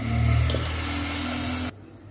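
Soaked rice goes into a pot of rasam with a loud, close bubbling sizzle and stirring that stops abruptly after under two seconds, leaving quiet.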